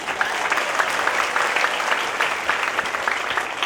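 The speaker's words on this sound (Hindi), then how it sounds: "तो एक बार जोरदार तालियां इनके लिए।" Enthusiastic audience applause for dance and devotional performers at an ISKCON Janmashtami celebration in Kanpur, a steady, dense wash of many hands clapping that holds loud and even throughout.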